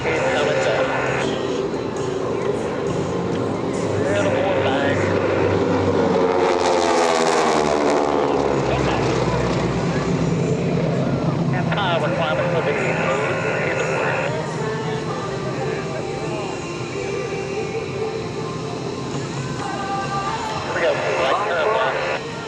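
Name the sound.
Titan aerobatic team airplanes flying overhead at air show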